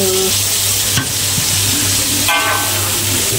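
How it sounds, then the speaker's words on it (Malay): Beef pieces stir-fried in a pan with ginger, garlic and red onion for a black pepper soy dish, a steady broadband sizzle with scraping stirs and a couple of sharper clatters, close and continuous. "Itu kita masukkan Dagingnya."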